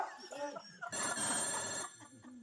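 A telephone rings with a bright, trilling electronic bell for about a second in the middle, fairly loud, with people talking just before and after.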